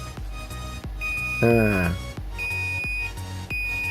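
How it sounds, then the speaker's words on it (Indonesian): A buzzer sounds in steady, high-pitched beeps while a brown five-pin Denso relay is tested, with a brief louder tone in between and someone talking over it. "kita hubungkan dengan buzzer kanan kiri guys"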